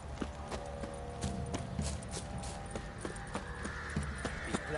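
Horse hooves clip-clop on the ground in The Witcher 3 video game, a steady, rhythmic run of quiet hoofbeats over a soft ambient background, with no talking.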